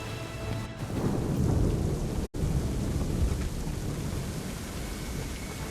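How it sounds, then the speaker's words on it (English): Thunderstorm in Assassin's Creed III: heavy rain pours steadily with rolling thunder rumbling loud and close, a brief dropout midway, and no voices. "I'd say it's high time we find some cover from this storm"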